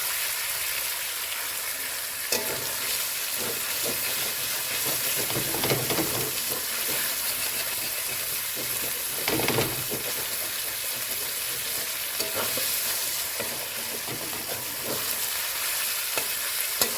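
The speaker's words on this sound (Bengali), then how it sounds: "ক্যাপসিকাম দিয়েও আমি আবার ভালো করে নেড়ে চেড়ে নিয়েছি" Capsicum being stir-fried in a pan for chilli chicken, a continuous close sizzle with repeated spatula scrapes and stirring clatters throughout.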